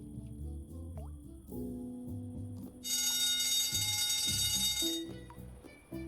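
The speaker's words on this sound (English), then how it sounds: "Shouldn't you do something about that alarm?" An alarm rings loudly in a bright, steady burst lasting a couple of seconds midway, set among dripping, clock-like ticks and other scattered mechanical noises.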